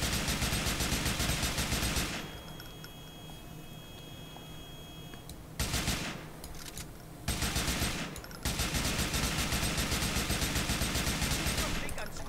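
Automatic gunfire from a modded rifle replacing the AK in GTA IV, long loud bursts of rapid shots with a quieter pause in the middle, then more sustained firing to the end, no voices.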